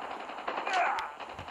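Gunfire in Call of Duty Mobile, a short burst of rapid game shots heard close, with the sound thick and continuous rather than separate cracks.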